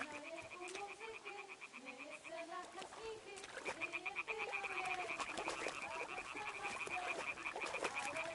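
Frogs croak in a pond in the medieval game Kingdom Come Deliverance 2, a dense chorus of rhythmic, repeated croaks over the full stretch, steady and fairly close, with birds calling faintly among them.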